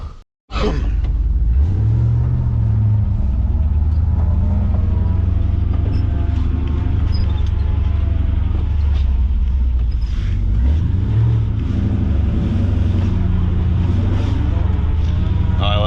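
Low engine rumble of a Chevrolet square-body K30 pickup with a swapped 6.0 LQ4 V8, driving, with shifting pitch as it accelerates and some rattling and wind noise throughout.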